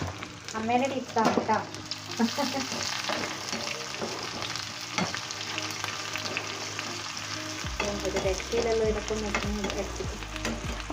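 Shallots sauté in coconut oil with a steady, close sizzle and crackle, punctuated by scraping and clinking from stirring in the pan.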